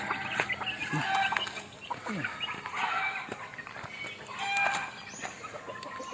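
Several hens cluck and chatter nearby, overlapping in an irregular, busy stream of calls, with some higher squawks mixed in.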